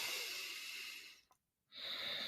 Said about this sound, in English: just breathe so loud you can hear your breathing